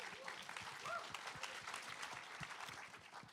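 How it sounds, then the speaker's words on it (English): A panel audience at a comedy and drama writing event claps, a brisk, moderately close patter of hands with a few murmured voices beneath, sustained for a few seconds. "You can clap."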